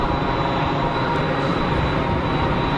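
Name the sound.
easyJet jet airliners taxiing at Geneva Airport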